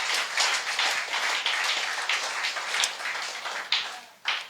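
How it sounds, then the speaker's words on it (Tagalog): A church congregation at a Sunday service claps loudly for the Lord, a dense, continuous wash of many hands that swells and dips, with a few sharper bursts near the end. "Lahat ng naniniwalang mga anak, pumalakpak ng malakas sa Panginoon"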